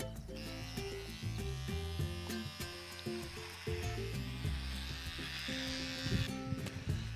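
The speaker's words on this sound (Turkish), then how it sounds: "Me afeito con esta máquina porque mi piel es más sensible y utilizar la cuchilla me suele irritar bastante." An electric shaver running over a beard gives a steady close buzz for several seconds, set against a melodic background.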